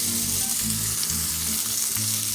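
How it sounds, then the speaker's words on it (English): Chopped onion sautéing in olive oil over medium heat, a close, steady sizzle with a constant bright crackle and low bubbling pops, no voices. "Now you're going to add in your onion, and you're going to let that saute for 3 minutes."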